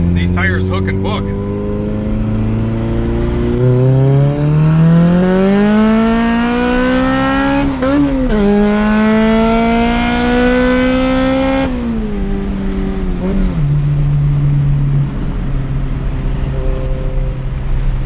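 A turbocharged Honda Civic pulls hard through the gears, its engine note rising steadily in pitch with loud, close revving. The tone dips at a shift and then climbs again, and someone talks over the sound.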